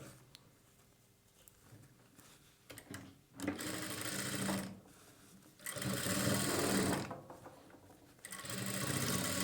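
A sewing machine stitches a boat-neck blouse back neck in quiet rapid bursts, starting and stopping several times with short pauses between runs.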